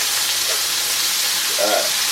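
A steady, loud sizzle of rump steak frying in a hot pan, a constant crackling hiss with no voices over it.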